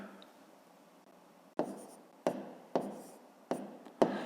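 Pen or pencil writing out a fifth-grade math equation solution by hand, heard as a soft steady scratch, then a series of five sharper strokes spaced about half a second apart, close and fairly quiet, with no talking.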